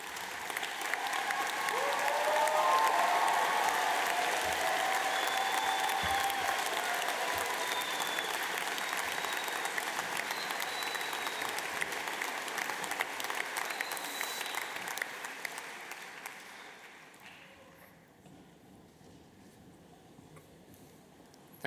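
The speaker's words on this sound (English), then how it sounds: "please join me in standing up and giving them a huge round of applause" A standing audience at a London College of Fashion graduation ceremony breaks into long, loud applause that swells early, holds for over fifteen seconds, then tapers off into near quiet.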